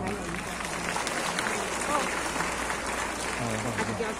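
Audience applause at a reading-classics award ceremony held at Kun Shan University in Tainan, a dense, sustained clapping wash from a crowd with a voice speaking over it.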